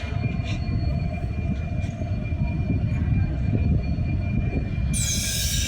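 A Modhumati Express passenger train pulled by locomotive 6611 rumbles steadily nearby at Kamalapur Railway Station, low and continuous, with a faint high tone and a brief metallic squeal near the end.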